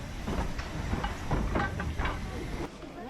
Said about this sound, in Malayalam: ഒരു സ്റ്റീം എൻജിൻ വെച്ചുള്ള ട്രെയിനിൽ കയറാൻ പോവുകയാണ്